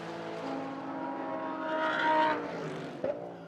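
A Super GT GT300 race car at Suzuka circuit, engine droning steadily as it passes, rising in pitch and loudness mid-pass, then a sharp brief pop near the end.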